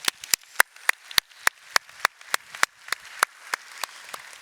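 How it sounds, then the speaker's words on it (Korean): Applause from a church congregation at a Korean worship service: about fifteen crisp, evenly spaced claps in a steady rhythm, sharp and close, with quiet gaps between them and no talking. "주님께 감사와 영광의 박수 올리시죠."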